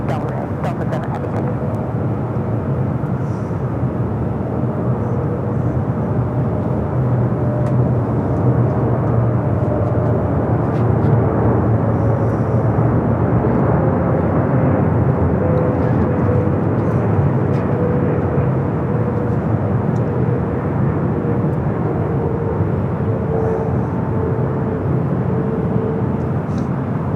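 A Delta heavy jet takes off from runway 24 left at Los Angeles International Airport, a loud, sustained engine roar with a low rumble and a steady tonal whine holding for nearly half a minute without fading.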